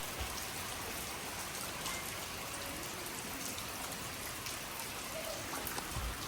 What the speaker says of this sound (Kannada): ಸಖತ್ತಾಗಿರೋ ಮಳೆ ಬರ್ತಾಯಿದೆ ನಮ್ಮೂರಲ್ಲಂತೂ